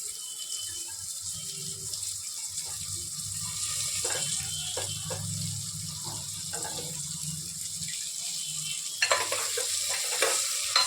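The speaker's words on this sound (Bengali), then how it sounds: "এবার এর মধ্যে দিয়ে দেবো বড় বড় করে কেটে রাখা এই যে ফুলকপিগুলোকে" Large cauliflower pieces dropped into hot oil for a Bengali chorchori, a low steady sizzle with scattered clacks of a spatula stirring, fairly faint and close, growing slightly louder toward the end, with no talk.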